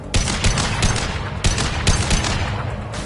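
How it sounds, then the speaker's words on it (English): Heavy gunfire in the video game Mass Effect 2, a loud close run of rapid shots at uneven intervals, with several sharper cracks standing out in a continuous battle din. "Firing concussive shot!"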